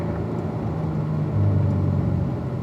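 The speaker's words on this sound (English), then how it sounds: "downshifting back to third gear before we turn in for 7" A car's engine on a race track holds a steady, close rumble, with its pitch stepping during a downshift to third gear before a corner, loud and continuous with no speech.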